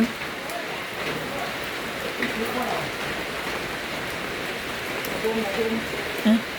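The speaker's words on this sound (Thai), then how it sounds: "ฝน" Steady rain falls during a Bun Khao Sak merit-making festival in rural Thailand, a dense, continuous hiss with scattered drops, while people talk faintly beneath it.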